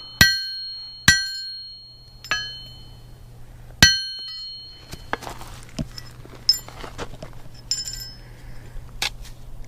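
Hammer whacks on a workpiece being fixed, four sharp ringing metallic strikes spaced about a second apart, each with a bright clinking decay, followed by softer scattered clinks and handling noises over a low hum.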